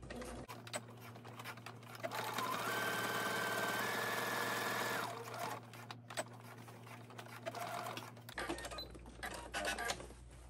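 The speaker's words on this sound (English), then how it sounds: "I'm going to finish off by sewing the bottom of my lining." A domestic sewing machine stitches the bottom seam of a fabric zippered-pouch lining, running in a steady continuous whir for a few seconds, pausing, then restarting with a lighter mechanical hum and ticking, close and alone without talk.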